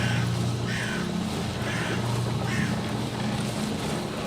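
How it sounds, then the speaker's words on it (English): Birds call in the Skyrim video game in short, evenly spaced bursts about once a second. The calls sit over a constant, loud background wash of outdoor ambience. "Birds."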